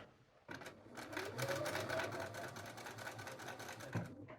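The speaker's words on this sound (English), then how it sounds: "And again, sew right down on that fold line." A sewing machine stitches bias binding onto a jeans-trouser waistband, a steady close whir running continuously after a brief quiet start, with no talking.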